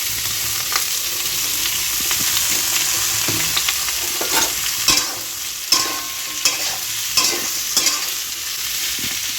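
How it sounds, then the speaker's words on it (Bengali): Bitter gourd fries in a pan with nigella seeds, a steady close sizzle and crackle punctuated by sharp scrapes and clacks of stirring, with no talk. "এখন হচ্ছে উচ্ছে ভাজা"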